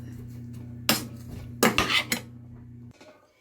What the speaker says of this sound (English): And I'm mixing it up.